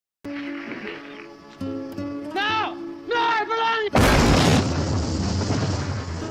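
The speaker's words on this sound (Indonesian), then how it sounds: "Dan bom itu meledak." Car bomb going off in a film: a sudden heavy blast that follows quieter tonal sounds, then a long roaring rumble that fades slowly.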